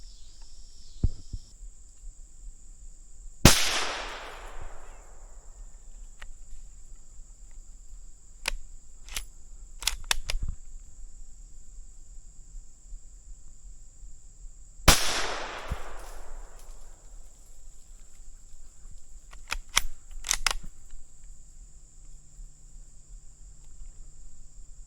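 Two sharp, loud gunshots ring out roughly eleven seconds apart while hunting squirrels in the treetops, each echoing away through the woods over a steady background of insects buzzing.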